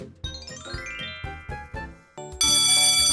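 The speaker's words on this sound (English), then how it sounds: "The bell rings, and Miss Jenkins wraps up her class, promis" A school class bell ends a lesson with a series of bright chiming strikes, rising in a quick run, then a sustained loud ring at the close.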